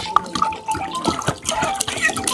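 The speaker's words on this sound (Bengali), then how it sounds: "এবার দিয়ে দেবো জল" Water pours and splashes into a cooking pot for boiling lentils, a close, continuous trickling with small splashes, while people talk.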